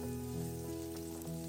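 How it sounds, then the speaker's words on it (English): Sliced onion sautés in an oiled pan over medium heat for a vegetable clam soup, a faint continuous sizzle under a steady hum and tonal background. "oil your pan and sauté sliced onion."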